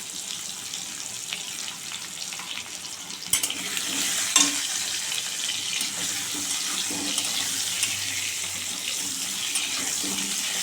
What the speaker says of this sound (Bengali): আলু ভাজার মধ্যে একটু নুন হলুদ দিয়ে দেবো